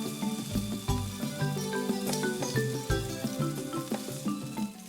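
Scallops sear in a hot, oiled frying pan with a loud, continuous sizzle and crackle, and faint clinks and stirring sounds come through over the frying noise.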